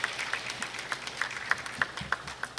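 A graduation ceremony audience claps, a thin scattering of hand claps in a loose, uneven rhythm, fairly quiet and without cheering or talk.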